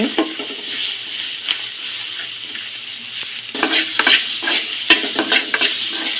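Sweet corn roasts and fries in a pan with a constant sizzle, punctuated by repeated stirring scrapes that grow busier and louder partway through.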